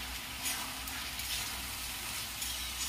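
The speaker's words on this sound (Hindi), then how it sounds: "इसे लगभग मैं 3-4 मिनट भूनूंगी हाई फ्लेम पर" Ginger garlic paste sizzling hard in a pan over a high flame, a steady dense frying hiss with faint stirring scrapes throughout, no voices.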